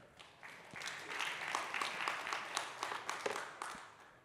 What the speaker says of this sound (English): So please give a large round of applause for Marek.